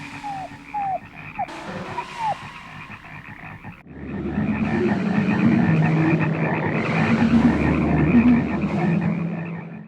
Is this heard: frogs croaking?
yes